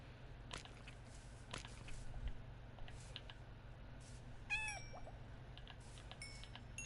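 Cat in Minecraft giving a couple of short, faint meows over a steady low background hum, with scattered light clicks and taps between them.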